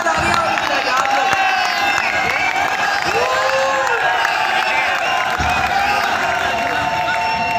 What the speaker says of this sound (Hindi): तालियां उनके लिए आप लोग।